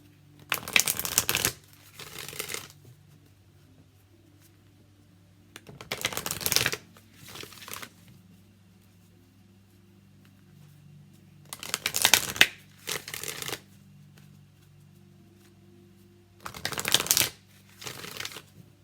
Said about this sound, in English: What's another deck, please, Spirit? All right, we are using the Energy Oracle by Sandra Ann Taylor.